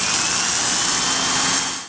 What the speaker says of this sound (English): You don't need much bit to drill that little hole.